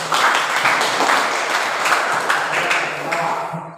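A school class of students, in a physical education lesson on forearm passing in volleyball, bursts into brief, dense applause, the clapping loud and sustained for a few seconds before tapering off.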